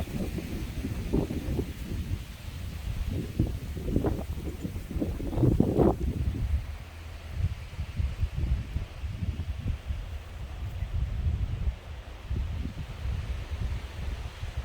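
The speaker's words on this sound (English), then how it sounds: "It's so windy today, I hope you can hear me okay." Gusty wind buffets the microphone in an outdoor garden bed planted with coneflowers, black-eyed Susans and a dogwood tree, giving a steady rumbling roar with stronger surges early on.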